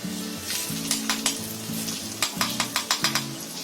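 Chilli powder hitting hot oil for a masoor dal tadka gives a steady close sizzle, with sharp spoon or ladle clicks against the pan and no talk.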